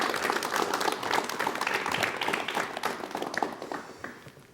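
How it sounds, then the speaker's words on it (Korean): Television studio audience clapping to welcome a guest lawyer from Gwangju onto a talk show, a lively burst of crowd applause that gradually tapers off. "박수로 맞이해 주시면 대단히 고맙겠습니다"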